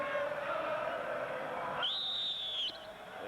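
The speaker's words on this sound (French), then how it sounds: "Et Zico qui touche son premier ballon, mais il y a eu un coup de sifflet de Michel Vautreau." A referee's whistle at a football match gives a single shrill, sustained blast of about a second, ringing out clearly above a steady crowd hum.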